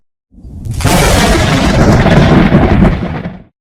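A sudden storm brings a loud, close crack of thunder that swells into a broad, sustained rumble and then fades after a few seconds; no speech.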